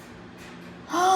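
A storyteller voices a camel's sharp gasp, a single loud intake of breath rising out of near silence at the end, imitating the startled animal.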